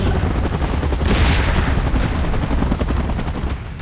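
A helicopter in an action scene: a loud, dense, continuous rotor roar with rapid chopping beats, mixed with crackling bursts like gunfire, sustained throughout without speech.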